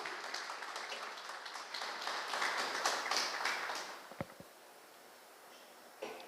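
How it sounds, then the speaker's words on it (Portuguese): A church congregation applauds during an evening worship service, a steady wash of many hands clapping that fades out after about four seconds, leaving a few isolated taps in quiet. "Você pode aplaudir ao Senhor nesta noite?"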